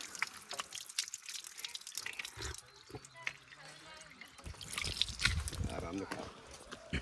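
Natural spring water trickles out of the ground on a remote Nepal hillside, a close, uneven stream of drips and splashes that swells louder toward the end, with occasional talk over it.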